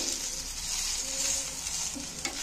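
Egg and onion frying in a pan, a dense continuous sizzle with faint stirring scrapes, close and steady throughout.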